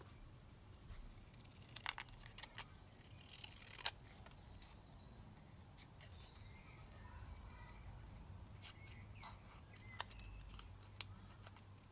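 Scissors snip paper cut from a vintage book, sparse quiet clicks and crisp cuts scattered over a faint background hum, with light paper rustle between and no speech.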